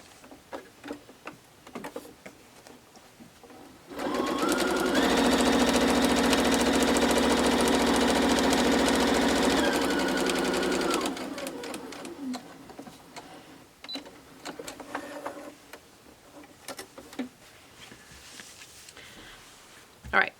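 A sewing machine stitches two fabric layers of a stocking in one steady, moderately loud run of about seven seconds. Quieter handling sounds come before and after it, and someone talks nearby.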